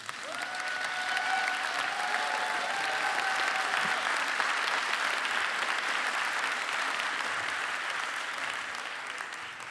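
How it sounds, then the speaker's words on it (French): Sustained audience applause fills a large hall at the We Are French Touch 2024 event, steady and dense for nearly ten seconds, with faint tonal music in the background and no speech. "je voudrais que vous les applaudissiez très fort"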